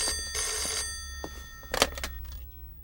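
A desk telephone in a magistrate's office rings in two loud bursts, followed by a sharp click as the handset is picked up; no talk over it.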